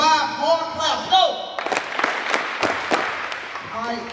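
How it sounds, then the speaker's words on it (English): A school assembly audience in Taholah claps in unison on cue, giving a quick series of sharp, crisp claps with short gaps between them, after a voice speaks. "5 more claps"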